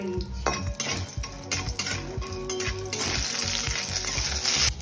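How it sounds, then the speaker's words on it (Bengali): Lentil dumplings (bori) fry in mustard oil in a pan, crackling and sizzling up close while a utensil repeatedly scrapes and clinks against the metal as they are stirred. "ভালো করে সর্ষে তেল দিয়ে ভেজে নিচ্ছে"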